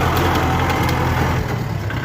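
Kubota L4708 farm tractor from 2013, its diesel engine idling steadily and close by for the full stretch with no talk, a continuous low rumble.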